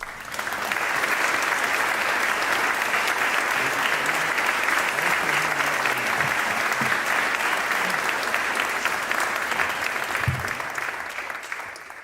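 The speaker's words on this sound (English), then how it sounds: "join me in offering a huge round of applause to our speaker, Dr. Curtis Carlson" Sustained audience applause fills a university lecture hall as the distinguished lecture speaker comes on stage, a dense, steady wash of many hands clapping for about twelve seconds before easing off at the end.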